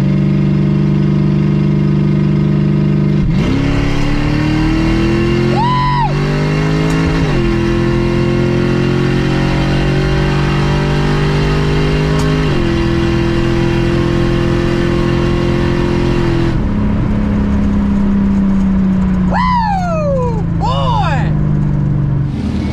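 An LS-swapped Chevy Blazer engine revs and rises in pitch as it launches down a drag strip, loud and close, with gear-change drops and people talking over it.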